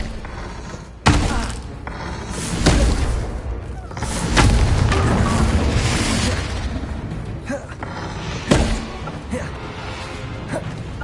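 A Confringo spell blasting in Hogwarts Legacy: a sharp booming impact followed by several heavy thuds and rumbling bursts, loud and close, with some speech mixed in among the explosions.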